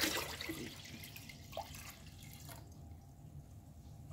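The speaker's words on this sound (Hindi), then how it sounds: "तो अब मैं मज़ीद इसमें जो है हमने तकरीबन 1 लीटर पानी जो है हमने इसमें ऐड करना है।" About a liter of water poured into a large pot while making pani for pani puri, a soft close splashing and dripping that fades after a couple of seconds into a quiet steady background.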